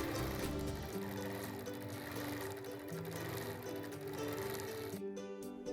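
Sewing machine quilting a motif on fabric in sped-up footage, giving a dense, continuous loud mechanical whir with fast rapid stitching rhythm throughout, stopping abruptly near the end.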